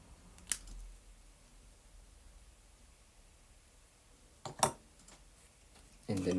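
Scissors cut a glossy card off-cut in a quiet room, giving a couple of sharp, close snips several seconds apart with near-silence between them.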